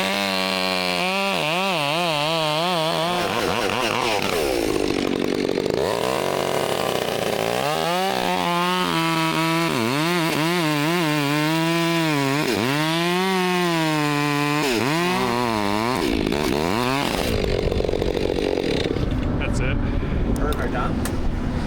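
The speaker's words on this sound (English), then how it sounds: "when you start running the chainsaw, then you can hear the chainsaw" A chainsaw cuts a large cottonwood tree branch over a house during crane-assisted removal, its engine loud and close, revving and bogging in repeated surges with steady whine between, while people talk and call out over it.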